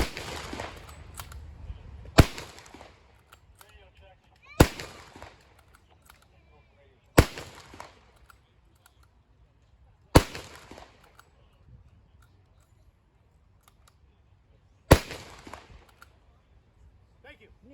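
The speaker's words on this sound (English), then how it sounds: "Once I fire the 6 rounds, the clips will fall out the bottom of the magazine." A rifle fires six blank rounds at a historical reenactment, sharp loud cracks spaced a couple of seconds apart with quieter crowd noise and movement between shots.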